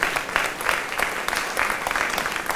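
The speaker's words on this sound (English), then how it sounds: "Y'all should be clapping right there." Audience applause at a Newark history society program honoring Cudjo Banquante, a brisk, fairly close burst of many hands clapping, heard alone.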